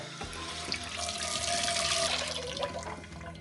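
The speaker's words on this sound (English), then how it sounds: "Let's give that a light rinse." Water running steadily from a tap to rinse a camp oven at a backyard camp-out, a close, continuous gush for a few seconds with no talking.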